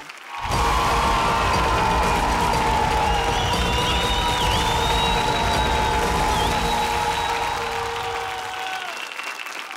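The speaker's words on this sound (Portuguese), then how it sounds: "Um aplauso enorme para o Alexandre Caldeira." Audience applause and cheering at a children's singing talent show battle round, a loud, dense wall of clapping and shouts that swells in at once and holds steady before easing slightly at the end.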